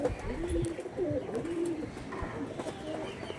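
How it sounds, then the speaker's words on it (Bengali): Domestic pigeons, including a pair of young birds, coo close by in repeated soft, rolling phrases, a few overlapping at a time. "একদম অরিজিনাল পায়রা"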